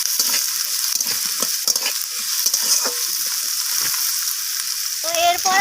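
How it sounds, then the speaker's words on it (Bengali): Cut potatoes frying in hot oil with already-browned onions for a fenugreek greens stir-fry, stirred steadily: a close, continuous sizzle with repeated scraping strokes, growing louder and busier toward the end. "তো আলুগুলোকেও আমি তেলের সাথে ভেজে নিচ্ছি।"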